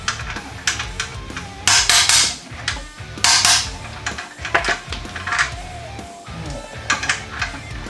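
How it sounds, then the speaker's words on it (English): Hammer blows on a nut threaded onto a bolt, driving it out during the teardown of a wrecked Can-Am Outlander ATV; a series of sharp, loud metallic strikes at irregular intervals with some rattling between them. "I'm putting the nut on first and hitting the nut rather than the threads"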